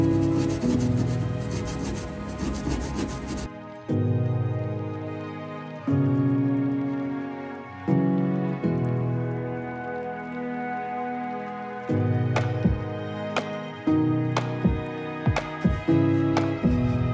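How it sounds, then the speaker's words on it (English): Sanding epoxy patches along the bottom of a boat hull during gel coat and core repairs. A steady rasping rub stops and starts in separate strokes, with a few sharp knocks near the end. "we're going to sand all along the bottom of here and get this prepped ready for"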